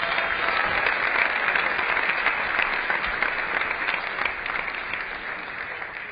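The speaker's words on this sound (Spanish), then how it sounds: "aplauso para Juliano y Tai Gong." An audience applauds speakers at a security conference talk on an HTTPS crypto attack, a dense, even wash of many hands clapping that holds steady for several seconds and then slowly thins.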